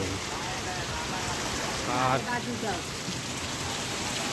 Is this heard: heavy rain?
yes